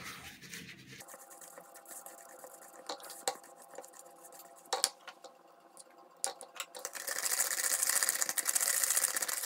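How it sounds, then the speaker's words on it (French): Butter and sugar being creamed together with a spatula and whisk in a bowl produce a run of close scraping, tapping and rattling strokes, growing into a denser, louder whisking rattle near the end, with no talking. "c'est d'y aller justement avec la spatule, histoire de bien arriver à incorporer le sucre et le beurre"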